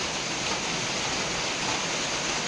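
Steady rain keeps falling, a dense, even hiss that holds without a break and with no voices over it.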